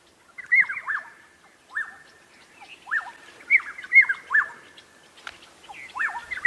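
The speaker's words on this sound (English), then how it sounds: "It was a southern black tit." Southern black tit calling at sunrise in the African bush, a series of clear, repeated chattering whistled phrases in irregular bursts, fairly close and alone against a quiet background.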